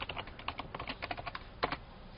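Keystrokes on a computer keyboard during a web login, a steady run of light, close taps with a short pause and a final quick burst, no speech.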